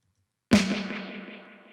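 A single electronic hit with a sharp attack, processed with a phaser and sixteenth-note ping-pong delay, ringing out with a slowly decaying, swirling tail in an Ableton production.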